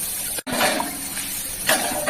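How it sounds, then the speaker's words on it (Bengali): Water pours into a pan of hilsa curry with nigella seeds and brinjal, making a close, continuous rushing splash that briefly cuts out and resumes. "এবারে জলটা দিয়ে দিচ্ছি"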